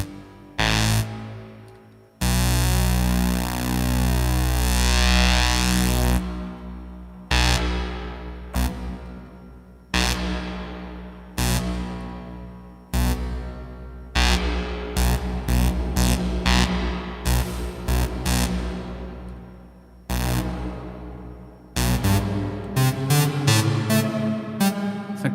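A UNO Synth plays a sequence of buzzy, harmonically rich notes through a modulating reverb, with a long sustained tone early and then a run of short repeated notes and chords, each trailing into a shimmering tail.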